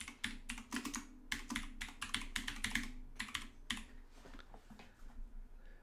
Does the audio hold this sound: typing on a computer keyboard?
yes